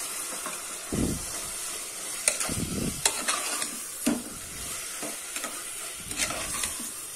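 Chopped tomatoes sautéing with ginger-garlic paste in a pan for vegetable masala rice, a low sizzle broken by several bursts of stirring and scraping, close and moderately loud.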